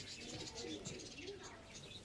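Two restless Giribaz high-flying pigeons give faint, low coos beneath a steady hiss of background noise, with indistinct voices nearby.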